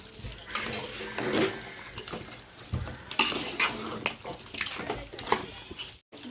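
Spoon scraping and clinking around a pot of curry with sambar powder while making chicken biryani, busy and fairly close, with a short gap near the end.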